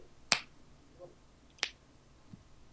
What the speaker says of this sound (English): Did you just clap?